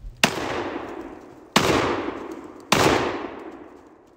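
Three sharp gunshots from a tiny Black Aces Tactical handgun fired at targets, each a loud close crack with a long ringing decay, spaced about a second apart.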